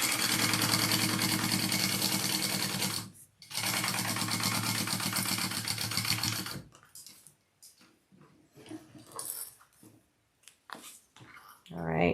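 A sewing machine bastes slick fabric with a fast, steady mechanical whir for several seconds, pauses briefly, then runs again before stopping; scattered clicks and handling noises follow.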